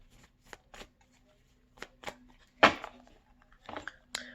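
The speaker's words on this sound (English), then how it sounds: "One more shuffle and we're on our way." Tarot cards being shuffled in several quick riffling bursts separated by short pauses, close and fairly quiet, with a faint tone humming underneath.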